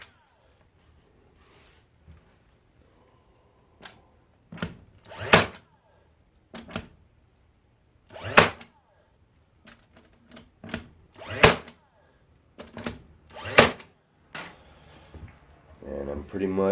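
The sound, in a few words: nailing brads into wood along glue lines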